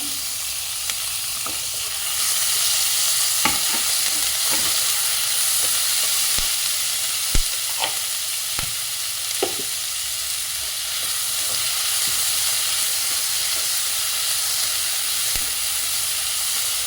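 Tomatoes and green chillies sizzle steadily in hot oil in a pan for poha, a dense continuous hiss with occasional spoon scrapes and clinks, close and fairly loud.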